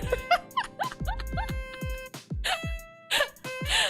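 A person imitates a dog with a quick string of squeaky yips and yelps, close and uneven in rhythm, broken by short breathy bursts.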